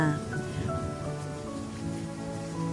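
Rain begins to fall in a 3D animated scene, a steady dense patter on surfaces mixed with a sustained tonal score, even and fairly loud with no voices.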